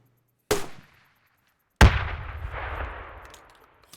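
Two booming shots from a 40mm grenade launcher in the military shooter Squad: a sharp launch report, then a louder explosive impact about a second later with a long rumbling decay.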